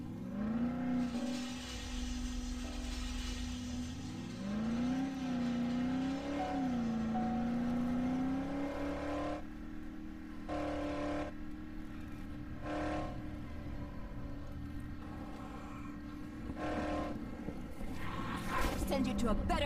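A car drives in Dead Island Definitive Edition on PS5, its engine droning and rising and falling in pitch as it accelerates. A steady mechanical hum continues underneath, punctuated by a few short thuds and bursts near the end.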